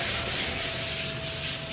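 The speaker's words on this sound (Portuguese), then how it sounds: "E agora eu venho com a lixa 320 com um taco flexível, porque eu já sei que essa peça está nivelada." Hand sanding with 320 grit sandpaper on a flexible block over a levelled body-filler surface being prepped for primer: a steady, continuous dry scratchy rubbing, close and uninterrupted, with no talk.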